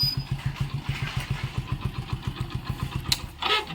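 A motorcycle engine running without a spark plug gives a steady, evenly spaced thumping beat, close and moderately loud, before it stops abruptly near the end.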